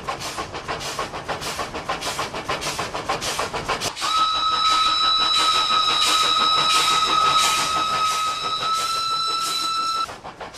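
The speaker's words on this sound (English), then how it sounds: "the train is running at 40 kilometers per hour" The Fairy Queen, the oldest working steam engine, chugs steadily through countryside at about 40 km/h, with rhythmic rail clatter and a loud, sustained steam whistle blowing over the running train for several seconds.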